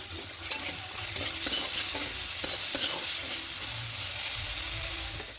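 Broad beans and eggplant sizzle steadily in oil, with a spatula scraping and tapping against the pan every second or so.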